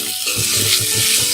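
Chicken sherva curry sizzling and frying in a pan as it is stirred, a steady hiss with soft rhythmic scraping strokes close by.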